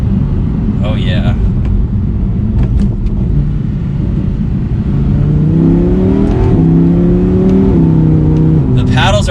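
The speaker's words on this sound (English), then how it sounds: "it has that nice V10 rumble that you would expect, even on the downshifts here" A 2020 Audi R8 V10 coupe on a test drive, its V10 engine rumbling steadily and then rising in pitch through a couple of revving pulls, loud and close, with a voice speaking over it.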